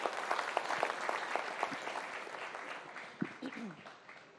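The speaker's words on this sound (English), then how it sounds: "you can applaud louder. Please applaud louder." Audience at a summit interview applauds, many hands clapping at moderate volume that gradually thins, with a voice speaking over the tail end.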